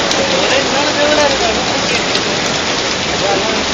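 Heavy rain mixed with ice hail pours down steadily and loudly, a dense continuous hiss with scattered sharper impacts, while voices talk faintly underneath.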